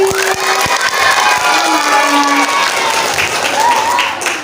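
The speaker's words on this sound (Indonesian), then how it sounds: "Tepuk tangan lagi." Audience applause fills a school award ceremony at an Islamic primary school, dense steady clapping throughout with faint background voices.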